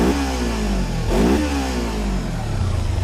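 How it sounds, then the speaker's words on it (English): A Kawasaki Versys-X 300 motorcycle engine revs hard, pitch sweeping up then dropping around the middle before climbing again, loud and close with a steady buzzy drone throughout. "a wildly attractive engine sound, if I'm honest"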